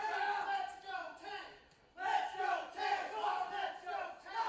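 Crowd at a live wrestling match yelling and cheering in a loud, surging roar that dips briefly, then swells back up and stays strong.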